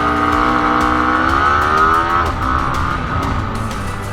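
A KTM 990 RC R motorcycle launches hard from a start, its engine note climbing steeply in pitch and then dropping sharply at a quick gearshift before pulling again, loud and close.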